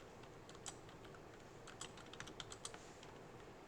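Programming code is typed on a computer keyboard in short, sparse runs of soft, faint keystroke clicks over a steady background hiss, with no talking.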